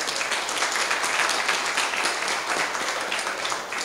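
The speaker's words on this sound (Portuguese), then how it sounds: "Não merece palmas isso, gente?" Audience applause during a presentation, a dense, steady wash of clapping from many people that carries on at an even level for several seconds.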